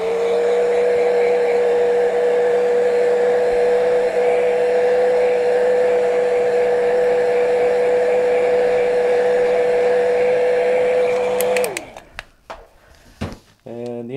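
A hair dryer drying paint on a daffodil painting runs with a steady, loud whine and airy rush for nearly twelve seconds, then switches off, followed by light handling clatter.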